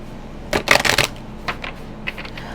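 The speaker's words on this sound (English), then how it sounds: "we're going to do some oracle cards and then we'll get into the tarot." A deck of oracle cards shuffled in a quick riffling burst, followed by a few softer card flicks and taps.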